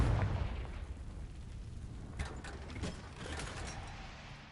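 The Confringo fire spell bursts in the Hogwarts Legacy video game, a muffled blast followed by crackling, rattling debris and a few sharper thumps, fairly quiet and without voices.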